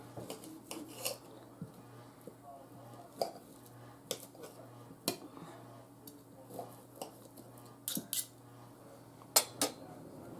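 A knife and fork cut a rosemary pork chop on a plate, with faint, scattered clinks and scrapes of metal on china recurring every second or so in a quiet room.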